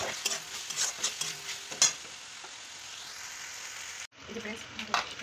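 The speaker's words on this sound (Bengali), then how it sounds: "তারপরে ভালো করে ভেজে নেব, ব্রাউন কালারের মতো ভাজতে হবে আমাকে পেঁয়াজটি।" Chopped onions frying and being stirred in hot oil with ginger-garlic paste, cooking toward light brown for a jackfruit curry; steady sizzle with scraping stirs, a brief pause midway, faint talk underneath.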